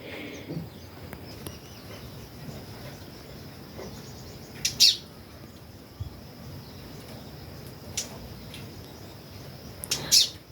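Occasional bird chirps ring out at a distance over a soft outdoor ambience, with a few brief sharper calls near the end.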